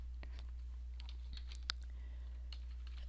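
Light, sparse keystrokes on a computer keyboard, a handful of soft clicks and one sharper tap, close by over a steady low electrical hum with no talking.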